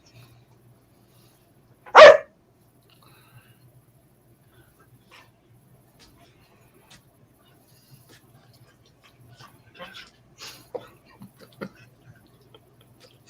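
A single sharp dog bark rings out near and loud, followed by long quiet stretches with faint scattered ticks and small household noises.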